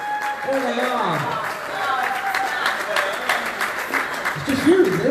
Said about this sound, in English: Give a round of applause, everybody.